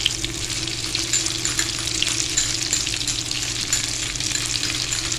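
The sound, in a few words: chana dal kebab patties frying in a pan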